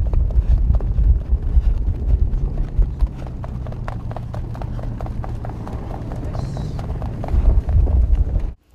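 Horse hooves clip-clop in a steady, quick rhythm close by for several seconds, with wind rumble underneath and the beat strengthening toward the end before stopping abruptly.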